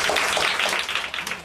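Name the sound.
audience clapping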